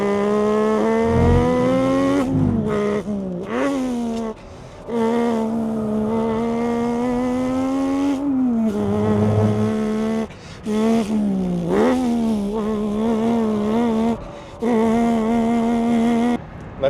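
A voice imitates a car lapping a track, with rising and falling engine revs between gear shifts, brief breaks, and squealing tire sounds as the car oversteers, all loud, close and continuous.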